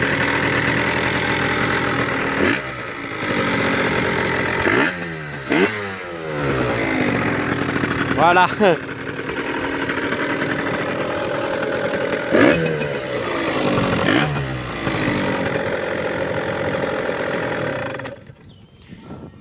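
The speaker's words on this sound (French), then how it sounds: "je vais vous faire écouter le bruit de la moto pour que vous la reconnaissiez un petit peu" A motorcycle engine idles close up with a steady mid-pitched rumble, broken by several sharp throttle blips that rise and fall. The engine cuts off near the end, and someone briefly speaks.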